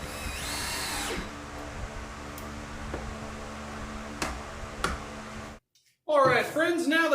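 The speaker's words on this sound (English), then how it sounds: "And here I am putting those smaller screws into the wood." A power drill drives small screws into wood while building a skateboard rack, a steady close whirring drone with a few clicks and brief spurts, then a pause and a voice speaking near the end.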